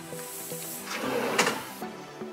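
A drawer in a room at the Wyndham Orlando Resort slides open and shut with a wooden scrape and thump, close by and quick, followed by a light knock.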